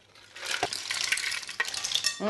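A golden saffron cream sauce for mussels stirred in a pan, soft bubbling sizzle with a few scraping spoon strokes, faint and close, no talking.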